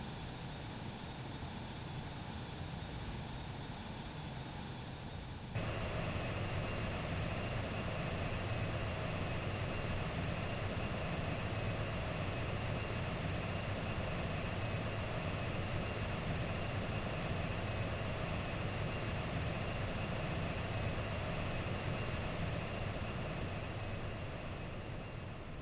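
Aircraft engines in Xenoblade Chronicles X drone as the craft comes in to land, a steady low hum that steps up abruptly and grows louder after a few seconds, then holds evenly with no speech.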